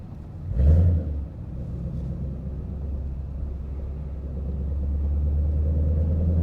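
A loud Ford Mustang GT gives a brief booming blip, then settles into a deep, steady exhaust rumble that swells as the car accelerates. Heard from inside the car.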